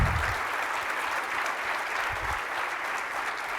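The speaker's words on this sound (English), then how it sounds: "please give me a good round of applause for Caitlin." Steady, full round of applause from a conference audience at an award presentation during an opening session, sustained and dense throughout with no break.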